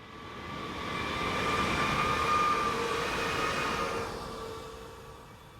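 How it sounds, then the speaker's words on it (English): A Class 440 electric multiple unit pulls north out of Winterhausen station, a smooth rising hum with a steady whine that swells, holds, then fades as it moves away, heard alone outdoors. "Unit 44301 heads north out of the station here at Winterhausen."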